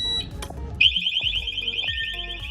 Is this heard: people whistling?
no